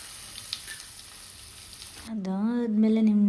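Chopped onion and tomato fry in a pan with a steady, close sizzle that carries on under a voice starting to speak partway through.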